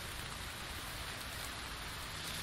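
Steady rain in the survival video game The Infected, a dense, even hiss of falling drops with no break or talk over it.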